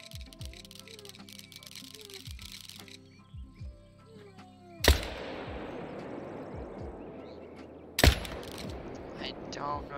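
AR rifle fired at a gator in theHunter: Call of the Wild, two sharp loud shots spaced a few seconds apart, each followed by a ringing echoing tail over quiet outdoor ambience.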